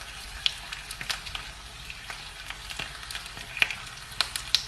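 A layered potato tart cooking in a hot pan, a soft steady sizzle with small crackles and pops, heard fairly close.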